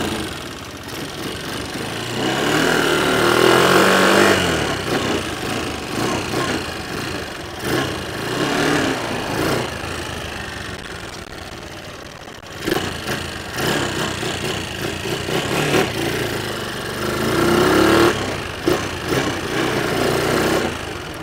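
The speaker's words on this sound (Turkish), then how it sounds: "Yine de sizlerin önünde de bir ilk marş yapalım." A freshly built 200cc drift motor runs for the first time after starting, with a steady, loud mechanical engine drone that rises and falls slightly over about twenty seconds.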